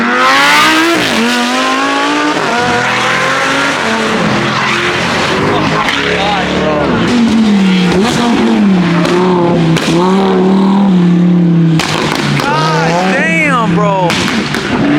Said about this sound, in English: Drifting the GT3 RS right now.